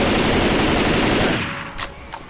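Rapid automatic gunfire in the video game Left 4 Dead, a loud, close burst of fast repeated shots lasting over a second, then a couple of sharper single cracks as the volume drops.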